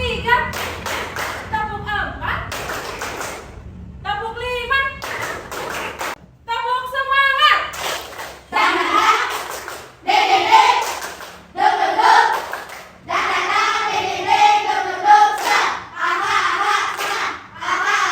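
Schoolchildren in a morning classroom clap their hands in counted patterns, with groups of sharp claps in bursts of increasing number separated by a teacher's spoken counts and the children's voices.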